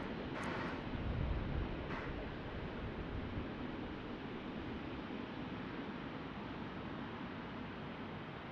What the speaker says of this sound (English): Porter Airlines and the Embraer 195